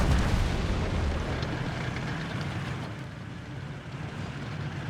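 Grenade blasts in the World War II strategy game Company of Heroes 3 rumble as a dense, booming explosion that opens loud and fades into a sustained, gritty battlefield roar of debris and distant fire.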